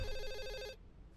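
A telephone rings inside a video game's night-shift setting, its bell tone repeating steadily for most of the moment, then cutting off briefly before a fresh ring begins, close and loud with no talk over it.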